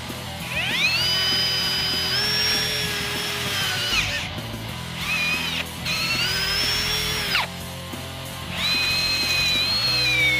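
A drill bores holes in the wooden handle beside the metal wedge of a mini sledgehammer head, whining up in three long bursts separated by short pauses, close and steady.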